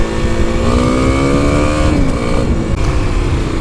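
A 2021 Kawasaki KLX300 dirt bike engine revs hard and close, its pitch climbing steadily then dropping back slightly, with a rough, buzzy exhaust note throughout.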